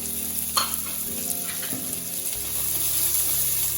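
Onion, green chili, ginger and curry leaves sauté in a hot oiled pan for a homestyle avil uppumavu, giving a steady close sizzle broken by brief clatters of stirring.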